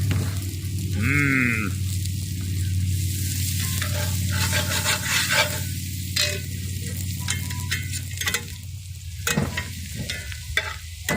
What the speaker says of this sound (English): And then I'm going to drop all of my chopped garlic in there as well.